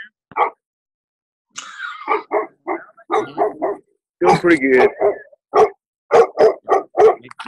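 A dog barks repeatedly in the background of an online faculty training meeting, with a burst of several sharp barks near the end as people talk over it.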